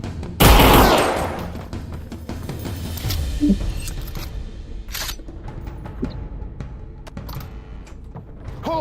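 A sudden loud, close burst of gunfire opens, then dies back to scattered fainter shots, clicks and thumps over a low background murmur.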